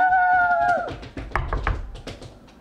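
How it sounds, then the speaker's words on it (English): Knocking on a door sounds as a few quick, close thuds in a short irregular cluster, following a brief tonal whine, with no voices over it. "Someone is knocking on the door."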